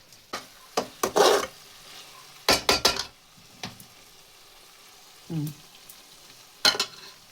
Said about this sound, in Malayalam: എണ്ണയൊക്കെ തിരിഞ്ഞ് വന്നേ. മതി കേട്ടോ, ഫ്രൈ ആയി.